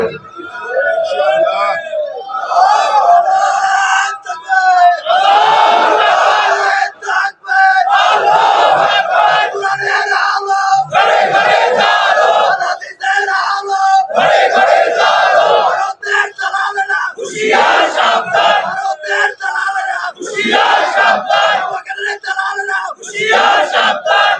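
A large crowd at a Bangladeshi Islamic sermon gathering in Pabna shouts a religious slogan together, loud sustained massed voices rising and falling in several waves.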